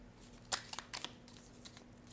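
Tarot cards are handled and drawn close by in a quiet room, with a few soft crisp flicks and shuffling rustles spaced irregularly over a faint steady hum.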